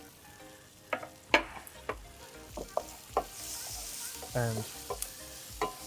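Curry ingredients with ginger fry in a pan, a soft steady sizzle broken by repeated scrapes and knocks of a spoon as they are stirred, heard close up with almost no talk.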